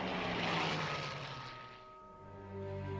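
A Hawker Hurricane fighter plane from the Battle of Britain era passes overhead, its propeller engine producing a loud rushing drone that fades slightly then swells again with a low, steady hum.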